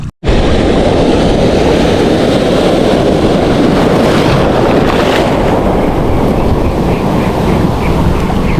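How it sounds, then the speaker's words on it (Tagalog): Choppy waves slap and rush around a boat near a broken bridge, a loud, continuous wash heavily mixed with wind buffeting the microphone, with no one speaking. "kalmada siya mga master pero pabugso-bugso yung alon niya."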